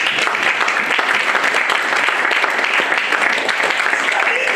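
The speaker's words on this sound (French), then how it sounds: "Est-ce qu'on peut acclamer Jésus?" A church congregation claps and cheers together, a dense, loud wash of applause that holds steady throughout.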